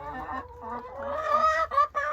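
Chickens clucking nearby in a backyard flock, a steady run of overlapping clucks and short calls that rise in the second half, with no voices.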